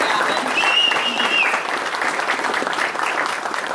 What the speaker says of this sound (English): let's give Ralph a round of applause for starting making this